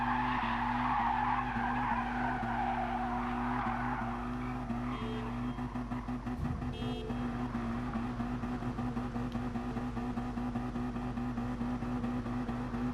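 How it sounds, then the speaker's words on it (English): Mazda NR-A tyres skidding in a racing video game, a sustained screech over a steady droning engine tone, loud and continuous throughout. "Let's smoke the tyres up a bit."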